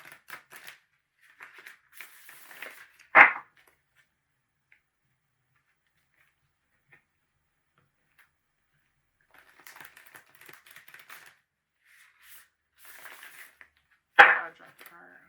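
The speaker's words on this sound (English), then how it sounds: "I'm just going to shuffle this 3 times to get it tuned to your 3rd pile energy." Tarot cards riffled and shuffled by hand, soft papery bursts with two sharper snaps of the deck, separated by quiet gaps, close and fairly faint.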